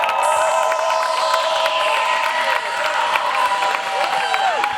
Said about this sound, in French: Donnez-moi encore le courage avec des acclamations.